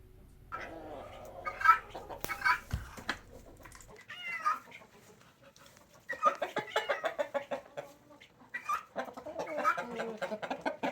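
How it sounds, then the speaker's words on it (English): About 70 chickens clucking and squawking inside a homestead barn, bursts of close, busy calls with brief quieter gaps between them. "here's last but not least, our chickens inside the barn"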